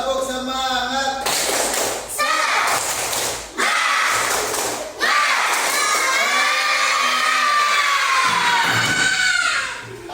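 A class of schoolchildren performs a rhythmic spirit clapping chant in an Indonesian classroom, loud shouted chanting voices mixing with bursts of claps and thumps in a lively, patterned sequence.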